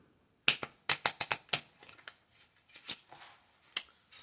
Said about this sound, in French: On va mélanger. Mélange américaine.